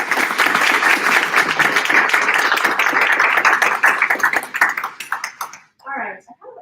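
A council meeting audience bursts into loud, dense applause that holds steady for several seconds, then thins into scattered claps and fades out.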